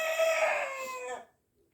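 A young rooster on a farmstead gives a single clear crow, close and fairly loud, holding for about a second before cutting off into silence.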